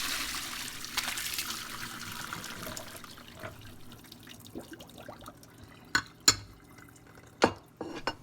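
Cooked rice noodles drained in a kitchen sink, a soft trickle and running water at first, fading into scattered drips and a few sharp splashes or clatters near the end.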